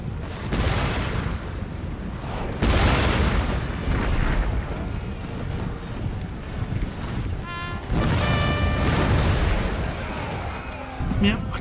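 Cannons firing round shot on an Empire Total War battlefield as France, repeated heavy booms and rumbling blasts spread across the scene, overlapping with constant battle noise beneath a voice talking.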